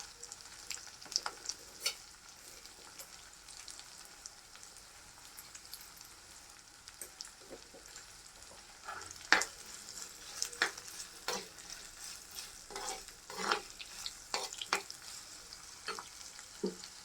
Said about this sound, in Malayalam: നമുക്ക് ഇനി ചെറിയ ഉള്ളിയും പച്ചമുളകും കൂടെ അരിഞ്ഞത് ഇതിൻ്റെ കൂടെ ഇടാം. അതൊന്ന് ചെറുതായിട്ടൊന്ന് വഴറ്റിയെടുക്കാം.